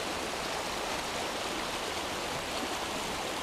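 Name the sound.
river flowing beside the monk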